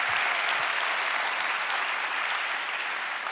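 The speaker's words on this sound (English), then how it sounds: "that deserves applause." Sustained applause from a large audience at an evening climate plenary, a dense, even wash of clapping that carries steadily from start to finish with no voices on top.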